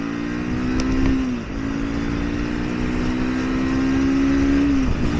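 Triumph Scrambler 400 motorcycle accelerating in third gear at about 4,000 RPM, a steady droning engine note that rises in pitch, drops briefly at a gear change, then climbs again over loud continuous wind rush.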